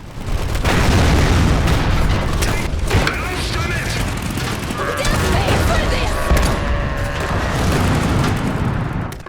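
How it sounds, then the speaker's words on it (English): A Saxony artillery mech in Iron Harvest fires explosive bombs, and dense booms and blasts pile up in loud, continuous rumbling battle noise that runs the whole way. "It can simultaneously launch 5 mobile bombs with a moderate explosive area of effect."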